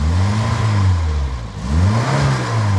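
A 1980 Toyota Corolla's 1.3 litre engine revving up close, rising and falling twice in pitch as the throttle opens and eases, steady and loud with no talk.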